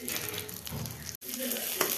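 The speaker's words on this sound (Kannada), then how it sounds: "ಈಗ ಎಲ್ಲ ಡ್ರೈ ಫ್ರೂಟ್ಸ್ನ ನೀಟಾಗಿ ಫ್ರೈ ಮಾಡ್ಕೊತೀನಿ. ಲೋ ಫ್ಲೇಮಲ್ಲಿ ಇಟ್ಕೊಂಡು ಫ್ರೈ ಮಾಡ್ಕೊಳ್ಳಿ." Mixed dry fruits fry in a pan on low flame, a soft continuous sizzle with light stirring, heard close up and briefly.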